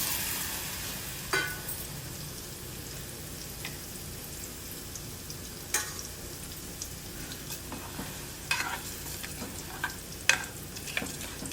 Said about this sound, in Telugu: మనం ముందుగా ఉడకబెట్టుకున్న మటన్ని ఇందులో వేసుకోవాలి